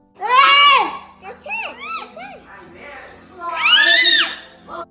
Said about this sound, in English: He vocal stims, so that means he screams.